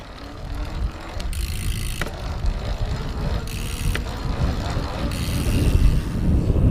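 An unpowered PESU Monster 250W e-bike coasts with its gearbox turning, giving a steady low rolling whir with wind rush and road noise, slowly building louder, no voices.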